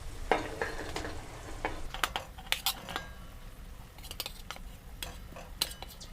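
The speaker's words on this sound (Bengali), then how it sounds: "এই পর্যায়ে আমি ভেজে রাখা আলু আর পটলটা দিয়ে দেবো" Fried potato and pointed gourd added to spice masala in a pan, giving sharp clinks and scrapes of a utensil against the pot over a soft, low sizzle.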